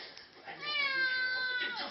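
A ginger cat gives a single drawn-out, rising-and-falling meow, close and clear, with a background of someone singing a children's song.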